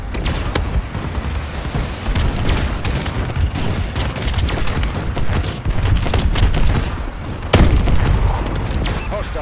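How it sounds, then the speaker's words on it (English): A friendly bombing run strikes in a Call of Duty: Advanced Warfare hardpoint match, with a dense run of booming explosions and scattered gunfire, loud and continuous, one heavy blast standing out near the end. "Friendly bombing run clearing the way."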